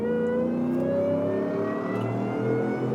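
A 700hp supercharged V8 Shelby F150 accelerating at full throttle, a strong rising engine roar with climbing harmonic whine, loud and close, steady throughout with no speech.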